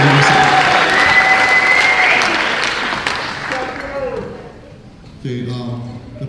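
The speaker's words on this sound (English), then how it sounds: "how about a nice round of applause for these students?" Audience applauding band students at a school band festival, loud dense clapping that fades out over a few seconds before a voice begins speaking.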